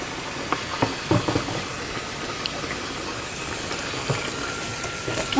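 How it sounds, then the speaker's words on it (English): Hands being washed under a running kitchen tap while cooking neck bone étouffée, a steady close stream of water with a few splashy bumps and clatters, no talking. "All right, wash my hands."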